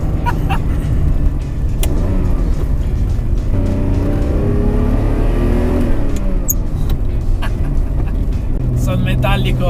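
A 1980s Ferrari Testarossa with a five-speed manual gearbox, its engine droning loud and close as revs rise and fall through gear changes, with someone talking over the engine throughout.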